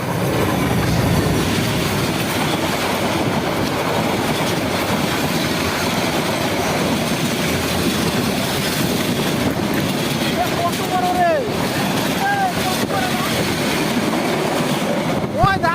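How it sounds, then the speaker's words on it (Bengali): A train rumbles loudly and continuously close by with a heavy clickety-clack, and sharp wheel squeals rise near the end. "ট্রেনটা একটু একটু করে দেখা যাচ্ছে। এই যে কাছে চলে আসলো, আর কি শব্দ!"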